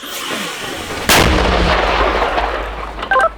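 A single heavy, booming Ukrainian army mortar launch in combat near Lyman cracks out loudly and rolls on into a long rumbling tail, with a faint metallic clink near the end.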